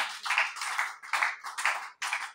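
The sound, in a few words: congregation clapping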